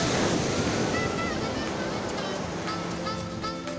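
Ocean waves crash loudly and continuously on the beach at Nibaleo Beach Resort in Pangasinan, a dense roar of surf with heavy wind buffeting the microphone and no pause throughout.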